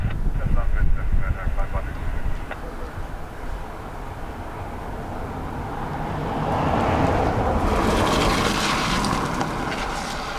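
An aircraft lands on runway 28 left at Dublin Airport on a wet day, a broad, rumbling roar that swells and brightens toward the end, heard from a distance.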